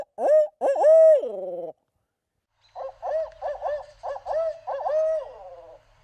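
A man imitates a barred owl's 'who cooks for you' hooting call with his voice during turkey season: two drawn-out hoots, a pause, then a rhythmic series of shorter hoots ending in a longer one, clear and close.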